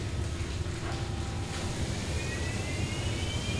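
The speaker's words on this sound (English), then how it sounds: "now we're going to start up this machine and continue roughing out this piece" A stone-cutting lathe spins up and keeps turning, a loud, steady mechanical roar and drone with a faint rising whine, continuous throughout with no talk.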